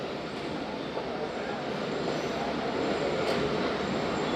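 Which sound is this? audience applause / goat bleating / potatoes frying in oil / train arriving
train arriving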